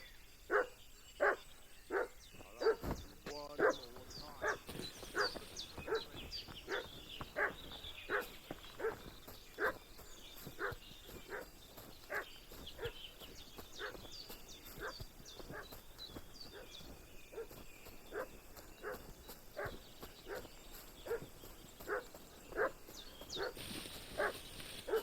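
A dog in Kingdom Come: Deliverance 2 barks repeatedly at a steady, agitated pace, with a moderate distance in the mix, over an outdoor ambience of insects and occasional birds.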